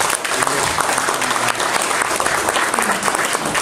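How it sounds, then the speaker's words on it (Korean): Loud, dense applause from a workshop audience at a provincial disabled sports association event, continuous clapping filling the room at close range with a few voices mixed in. "여러분 고생하셨는데 크게 한 박수 한번 부탁드립니다."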